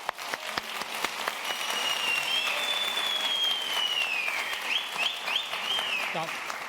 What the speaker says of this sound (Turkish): ve yazar Cemal Safi'ye de bir alkış rica ediyorum.